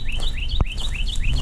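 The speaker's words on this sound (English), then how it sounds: "Nice birds singing to us wherever they're at." Birds singing outdoors, repeated rising chirps in a steady pattern over a constant outdoor background, with a single dull knock near the middle.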